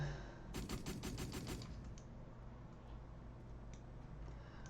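Assault rifle fire in a video game against Cossack enemies: a quick burst of about eight rapid shots up close, followed by a steady hum of background game noise and a few faint clicks.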